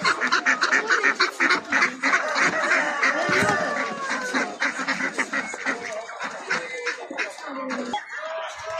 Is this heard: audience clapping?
no